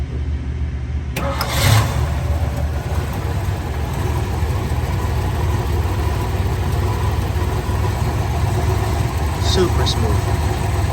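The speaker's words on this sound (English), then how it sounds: "going to fire it up now. I'll let you hear it run" A restored 1964 Chevrolet Chevelle Malibu SS engine cranks and catches after a second of quiet, then settles into a loud, steady, smooth idle close by, with a person talking over it.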